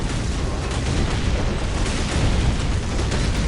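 Airstrike explosions in the Dawn of War Crucible mod, called in by Imperial Guard forces, roar as a dense, continuous wall of booming blasts that stays loud throughout.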